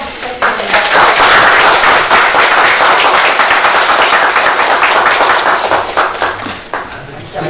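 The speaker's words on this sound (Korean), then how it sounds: "동반자로서 함께 하시겠다는 의미로 분들께 크게 박수 한번 부탁드립니다" An audience at a Democratic Party event announcing new recruits gives loud, sustained applause, a dense wall of clapping close by that swells quickly and then slowly thins toward the end.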